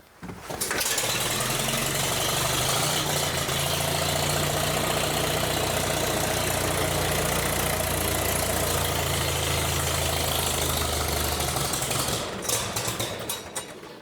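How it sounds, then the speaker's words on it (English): A 1938 Farmall F-20 tractor engine cranks and catches, then runs at a loud, steady, rough idle close by for over ten seconds before dying down near the end; no talking. "So now we should be good to start it."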